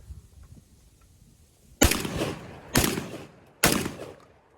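Garaysar TR19S shotgun firing at an outdoor range, three loud close blasts spaced about a second apart, each with a short decaying tail, after a quiet lead-in.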